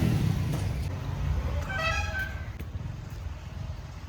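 Vehicle horns honking on a road below Idumban Hill near Palani, with one stretched horn blast rising over a steady background of passing traffic.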